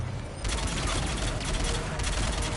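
Weapon fire in the video game Mass Effect Legendary Edition: a dense, loud, continuous burst of rapid gunfire that cuts in sharply and roars with heavy low-end rumble.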